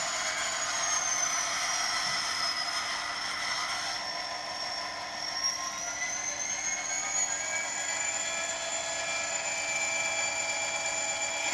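Bachmann class 57 model diesel locomotive running on a model track, a continuous high-pitched motor whine with slowly shifting tones, steady and close, with no talk.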